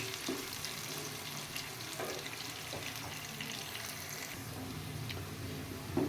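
Chopped onions sizzle steadily in a hot pan as they cook to golden brown, a soft continuous crackle with occasional faint stirring sounds.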